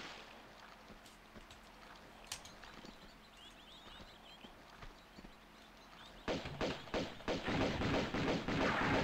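Rapid volley of gunshots in Tomb Raider 2 with the character Fabio, starting abruptly after a quiet stretch and continuing as dense, loud bursts over low ambient game sound.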